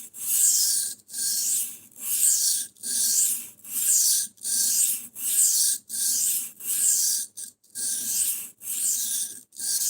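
Rhythmic rasping strokes of a knife blade being sharpened, about a dozen even passes roughly a second apart, each a rough scraping rub with brief pauses between, close and clear with no talking.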